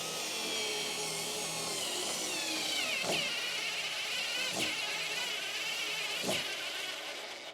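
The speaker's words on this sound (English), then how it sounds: "So let's drive in a screw upside down, just like so." Parkside electric screwdriver with interchangeable heads driving in a screw, its small motor whirring steadily close by, with three sharp clicks spaced a second or two apart.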